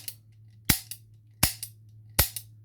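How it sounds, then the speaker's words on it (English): A blank revolver fires three sharp, loud cracks at steady intervals of under a second, each with a short metallic echo tail, in an otherwise quiet room. "Revolver's a better example, so I could just fire it."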